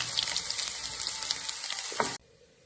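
Curry leaves hit hot coconut oil already holding small onions and mustard seeds, giving a loud, bright, crackling sizzle that continues steadily, then cuts off abruptly near the end to near silence.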